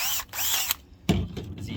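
A drill bores out an oblong opening in a Harbor Freight Predator 3500 inverter generator's panel to fit a 12-volt reset switch, giving two close, loud whirring bursts separated by a short pause.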